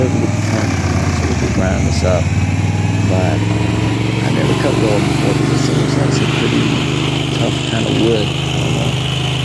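A small engine runs loudly and steadily nearby while a tree stump is cut up for a river rock flower bed project, with someone talking over the constant drone.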